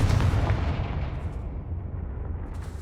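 Repeated Confringo blast-spell explosions from the Hogwarts Legacy video game, loud rumbling bursts that are densest at the start and fade into a sustained low boom, with no talking.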